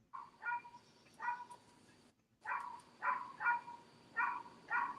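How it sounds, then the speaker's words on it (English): A dog barks somewhere off to the side during a live sale broadcast, giving several short, moderately loud barks in uneven pairs and bursts with brief pauses between. "Can you guys hear the barking?"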